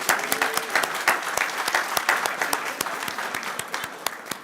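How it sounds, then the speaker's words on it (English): Audience clapping at a school board meeting following the Pledge of Allegiance, a steady patter of sharp, distinct hand claps from a modest crowd, fairly close and sustained throughout with no talk over it. "Let's give her a hand clap."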